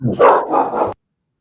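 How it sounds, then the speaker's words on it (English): A dog barks close to the microphone, giving a short burst of two or three quick barks over about a second before the sound cuts to silence. "I want to hear your dog now bark back to his"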